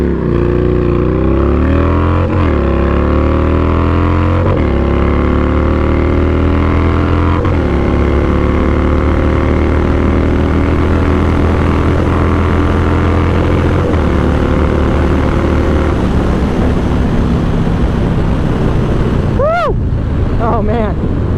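A Yamaha Road Star Warrior 1700 motorcycle accelerating hard from standstill toward 60, its big engine rising in pitch through several gear shifts amid heavy wind buffeting, loud and continuous, ending with a brief whine.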